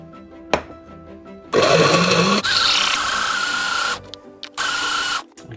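A kitchen blender whirs through fermented chili sauce, a loud, steady motor roar in bursts that starts, runs, cuts out briefly and starts again.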